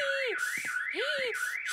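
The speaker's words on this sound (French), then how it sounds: "cette fois-ci, c'est l'alarme incendie" A school fire alarm in a French cartoon wails in a repeating rising and falling electronic siren pattern, loud and continuous across two cycles.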